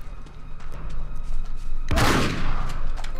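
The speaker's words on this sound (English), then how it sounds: "Shotgun." A shotgun blast in Uncharted 3 during a chateau firefight, one loud sharp burst standing out from a low background of game noise.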